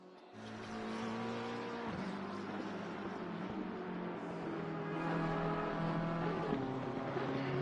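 A BMW GT race car in the Assetto Corsa Competizione game at Watkins Glen drones steadily at high revs, with a brief gear-change dip early on, then climbs in pitch as it crosses the line to start qualifying.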